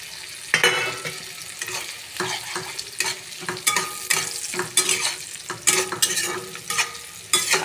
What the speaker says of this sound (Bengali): আপনারা আলাদা করে ডিমটা ভেজে নিতে পারেন, আমি এর সঙ্গেই ডিমটা ভেজে দিয়ে দিয়েছি